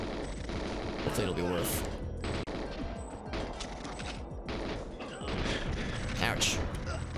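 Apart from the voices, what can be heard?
gunfire in GoldenEye video game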